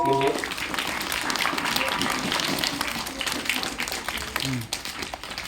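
A school audience of children and teachers breaks into sustained applause, dense clapping that fills the room and continues steadily throughout, with a voice briefly audible at the start and end.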